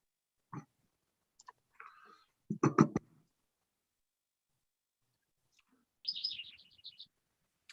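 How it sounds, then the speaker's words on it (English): A bird chirping outdoors during a remote committee meeting, faint and distant, with a brief quick run of tweets near the end after a few scattered soft noises and quiet gaps. "Who's got the nice bird in the background?"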